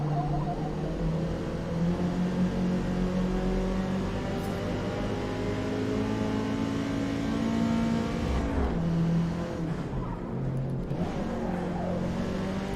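A race car engine in Forza Motorsport revving hard through the gears, sustained high whine climbing in pitch with quick dips at each shift, loud and continuous.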